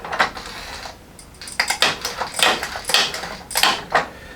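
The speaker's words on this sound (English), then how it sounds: "You probably hear the clunking sound of the tape going into the tape dispenser." Cricut heat-resistant tape is pulled and fed into a tape dispenser, giving a series of close, irregular clunks and rustling clatters that come in bursts with brief pauses between them.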